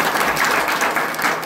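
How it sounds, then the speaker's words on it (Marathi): An audience at a devotional kirtan gathering breaks into loud, sustained applause, dense crowd clapping filling the whole moment without a break. "एकदा सर्वांनी जोरदार टाळ्या वाजवा"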